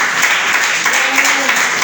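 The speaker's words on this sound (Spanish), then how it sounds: "¿Cuánto le damos aplauso a Jesucristo?" Loud, dense applause from a church congregation during a Spanish-language service, continuous clapping with a faint voice rising briefly within it.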